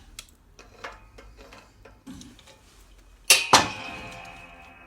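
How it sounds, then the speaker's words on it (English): A sharp, loud crack rings out with a short metallic ring as a bearing track comes off its seat in a Foden Fleetmaster rear hub, followed by a second crack, after quieter scraping and tapping clanks. "that cracking noise you heard then was the track coming off its seat"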